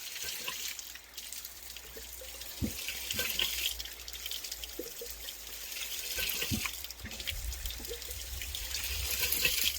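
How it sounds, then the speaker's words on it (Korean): Water from the hose of a minimum-drop irrigation pump at a farm canal, with about a 30 cm drop, falls in a steady broadband splashing and trickling stream, continuous and fairly close, with no talk. "지금 저기 호스 물 떨어지는 거 보이시죠?"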